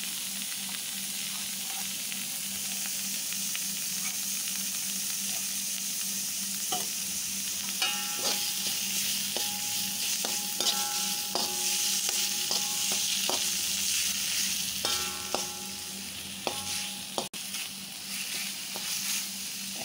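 Minced meat for chili con carne sizzles steadily in a hot pan, with a continuous frying hiss broken by intermittent scraping and stirring clinks of a utensil against the pan.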